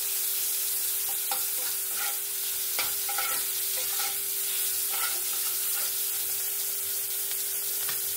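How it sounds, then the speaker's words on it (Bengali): Steady sizzling of shrimp frying in a pan with repeated scraping strokes of a spatula stirring, close up, no talking, over a faint constant hum. "এর সাথে ভালো করে ভেজে নেবো চিংড়ি মাছটা।"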